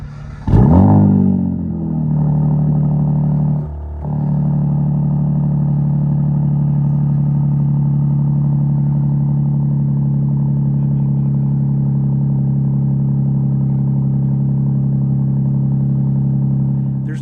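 A 550-horsepower 2026 Dodge Charger Sixpack Scat Pack with the Hurricane engine fires up with a sharp exhaust flare, then settles into a loud, steady, deep rumbling idle close by.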